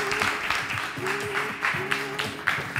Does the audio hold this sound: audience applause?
yes